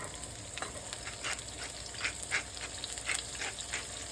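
Vegetables sauté in a hot pan for a Valentine's dinner, giving a steady, close sizzle with intermittent crackling bursts and stirring scrapes, no voices.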